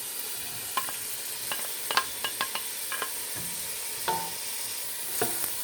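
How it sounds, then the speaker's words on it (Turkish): Onion, pepper and carrot fry in olive oil with a quiet, steady sizzle, while a utensil scrapes and taps the pan in irregular bursts close by. "Yağım biraz ısındıktan sonra soğanımı, biberimi ve havucumu ilave ediyorum."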